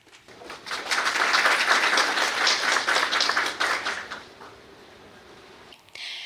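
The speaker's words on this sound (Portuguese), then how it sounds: "uma salva de palmas para ela" An audience at a lecture on JICA scholarships claps to welcome a speaker, swelling quickly, holding for a few seconds, then fading to quiet room tone before a brief noise at the end.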